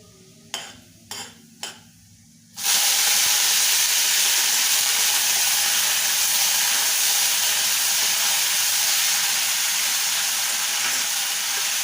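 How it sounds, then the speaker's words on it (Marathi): Urad dal and coriander roasting in a hot pan, starting with a few clinks of the utensil, then a loud, steady sizzle and hiss of frying that continues throughout. "आता उडदाची डाळ घालूया आणि ह्याच्यातच मी कोथिंबीर घालते थोडीशी भाजून देते"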